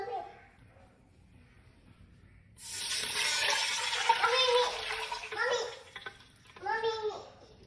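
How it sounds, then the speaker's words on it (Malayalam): Water is poured into a pot for biriyani rice, a steady splashing pour that begins sharply partway through after a quiet stretch, with a person talking over it at moments. "ഇതിലേക്ക് നമുക്കിനി വെള്ളം വീത്തി കൊടുക്കാം"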